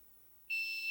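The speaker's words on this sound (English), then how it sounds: "is this the same beep?" A sharp, steady electronic beep cuts in halfway through after near silence, loud and held to the end, a high pure tone in an otherwise quiet room.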